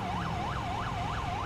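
An ambulance siren in a video game roleplay wails in a steady, fast rising-and-falling cycle, loud and continuous with no voices over it.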